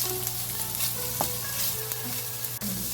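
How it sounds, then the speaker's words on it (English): Peppers and onions fry in melted butter in a pan, giving a steady, close sizzle with a few light stirring clicks across the whole stretch. "Add your peppers and onions. Cook until the peppers and onions are tender."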